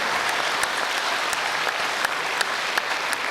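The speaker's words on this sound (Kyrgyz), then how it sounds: "Кол чаап койсоңор жараша берет" Audience applause fills the hall at a comedy performance, a dense, steady patter of many hands clapping with a few sharper claps standing out, with no voices over it.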